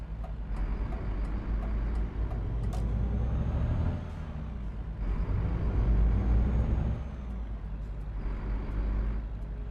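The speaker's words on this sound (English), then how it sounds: "I do believe this is the default sound. I don't think I'm running a sound mod for this truck." Renault Magnum truck engine in Euro Truck Simulator 2, using the default engine sound: a deep, loud diesel rumble that swells and eases in a few long surges, with hissing air releases on top and no talking.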